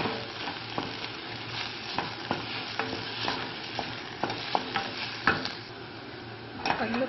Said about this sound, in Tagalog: Antayin natin maluto yung sibuyas at saka bawang